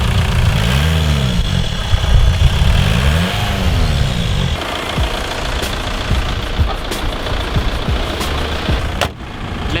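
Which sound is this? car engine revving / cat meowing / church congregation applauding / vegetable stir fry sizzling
car engine revving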